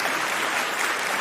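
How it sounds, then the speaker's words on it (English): Applause sound effect from a studio crowd, a dense steady wash of clapping for just over a second, loud and alone. "I'm gonna give you the applause before you even start speaking."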